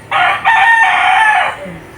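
A rooster crows once, loud and close, in a single drawn-out call that lasts about a second and a half. A brief quieter cluck follows.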